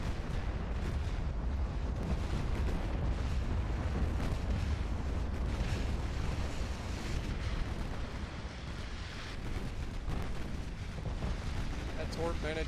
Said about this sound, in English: That torp managed to hit the Yamamoto